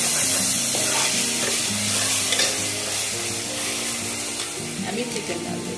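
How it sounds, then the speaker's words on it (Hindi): Masala for methi chicken frying in oil before the chicken goes in: a steady, close sizzle with stirring scrapes running throughout, fairly loud and with no talk over it. "ऐसा ऑयल सेपरेट होने तक सिर्फ ऑयल में पका लेते हैं"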